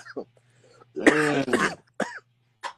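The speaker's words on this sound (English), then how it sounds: "So my bad. I'm coughing." Several harsh coughs and throat-clearing bursts, close and loud, spaced irregularly with brief quiet gaps between them.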